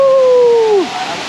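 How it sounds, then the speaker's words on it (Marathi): Domzira waterfall rushing as a steady, loud wash of broadband water noise, with a short falling tonal whistle over it in the first second. "पोचलेले आहोत डोमझिरा वॉटरफॉल"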